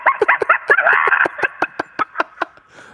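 A person on a radio show contest imitates a crow's caw with about a dozen sharp, rhythmic cawing calls, loud and close, with no other sounds.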